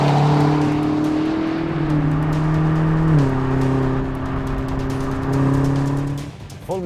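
A 2020 BMW M8 Competition's engine pulls hard and loud, its tone climbing steadily through the revs, dropping sharply at a gear change and rising again before backing off at the end.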